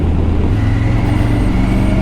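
Steady road traffic in Delta, near Vancouver, a continuous low rumble of passing cars and heavier vehicles, close and fairly loud throughout with no talking.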